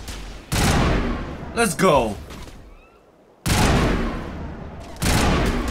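Bursts of sustained automatic gunfire from the video game Mass Effect Legendary come in loud, dense volleys separated by short pauses, while a voice speaks briefly between them.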